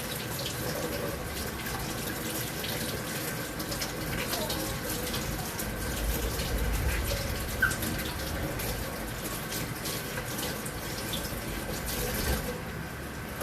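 Tap water running steadily over vegetables being washed in a kitchen sink, a constant close hiss and splash lasting the whole stretch with faint clatter.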